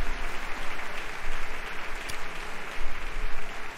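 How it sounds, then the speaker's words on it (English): In the Harry Potter: Magic Awakened duelling game, a virtual crowd bursts into sustained cheering and clapping after a victory, a dense, loud, continuous roar of applause with no speech over it. "And the crowd goes wild."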